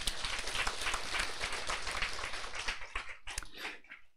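An audience at a business seminar claps for a few seconds, a dense patter that thins out into scattered individual claps at the end.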